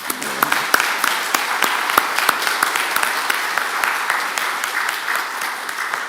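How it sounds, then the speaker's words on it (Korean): A church congregation at a Sunday worship service claps to welcome a new pastor, with sharp individual claps standing out over a steady, sustained wash of applause that fills the room. "다시 한번 박수 한번 드립니다"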